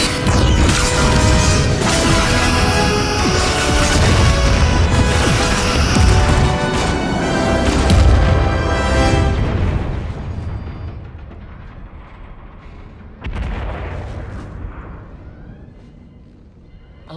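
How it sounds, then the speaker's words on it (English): The starship Enterprise-D fires torpedoes and phasers in a dense burst of loud sci-fi weapon blasts and booming explosions, then the barrage thins out into fading rumbles with one last swelling blast. "Torpedoes away, locking phasers and returning fire."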